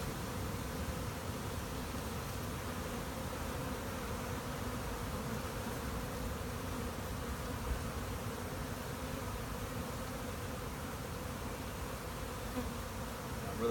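Honeybees droning steadily around a hive box outdoors, a dense continuous buzz from many insects at close range with no talking.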